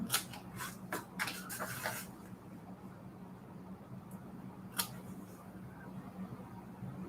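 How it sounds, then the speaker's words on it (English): Scissors snipping a small triangle out of paper for a junk journal, several quick close cuts in the first two seconds, then quiet room tone with one more faint snip later. "Cut a little triangle right here."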